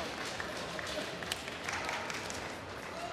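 An arena crowd applauds after a gymnastics routine at a World Cup apparatus final in Cottbus, with dense, steady clapping throughout and a faint voice beneath.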